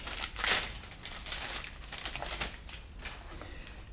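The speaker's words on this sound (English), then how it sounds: "We just need to take it out of the packaging." A brand-new boot strut for a VW Polo is pulled from its packaging, with soft crinkling and rustling of wrapping in a few bursts over several seconds, close by and fairly quiet.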